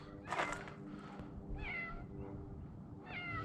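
A cat meows in a garage workshop where an Acura Integra is being built, with several clear meows spread across a few seconds over a steady background hum; no one speaks.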